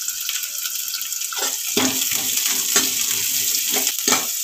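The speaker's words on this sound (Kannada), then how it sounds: "ಈರುಳ್ಳಿ ಹಾಕ್ಕೊತೀನಿ, ಫ್ರೈ ಮಾಡಬೇಕು, ಇಷ್ಟು ಕರಿಬೇವು" Onion, curry leaves and cumin go into hot oil for Andhra-style palak dal and start to sizzle and crackle. Sharp spatters and stirring scrapes rise over a steady frying hiss.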